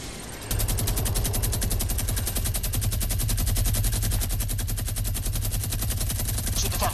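Minigun in Fortnite firing one long continuous burst, a dense rapid rattle of shots that starts abruptly and keeps going loud and close from start to finish.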